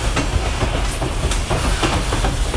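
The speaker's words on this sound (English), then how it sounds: "Look at that train." A train rumbles past close by, with a steady roar and rhythmic clacking of wheels over the rails.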